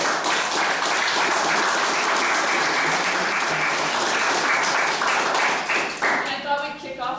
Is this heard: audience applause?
yes